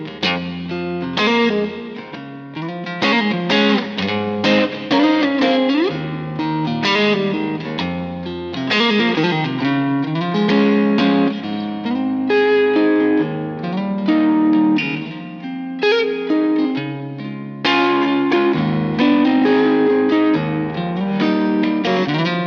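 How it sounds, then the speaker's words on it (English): A Fender Poblano Stratocaster electric guitar played on its neck pickup through distortion and chorus-style effects, loud, sustained chords and melodic lines with no talking. "Now let's do some more neck pickup tones as it sounded so sweet."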